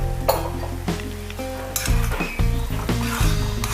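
Chopped green chillies hit hot oil in a pan for a garlic and ginger pickle, giving a loud steady sizzle with sharp clinks of a utensil against the pan.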